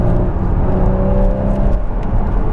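A Porsche Cayman engine hums steadily and loudly while driving, a continuous near drone with harmonic tones rising slightly in pitch as it pulls.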